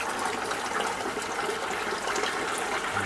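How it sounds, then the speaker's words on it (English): Water gushing and draining through a small siphon in an aquaponics gutter growbed with fish, a steady close rushing and gurgling flow, fairly quiet and alone. "Siphons are working."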